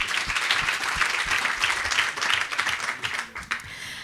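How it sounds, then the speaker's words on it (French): Applause from a conference audience, a steady dense clatter of many hands sustained for about four seconds before thinning slightly at the end, with no voices on top. "Je crois qu'on peut les applaudir."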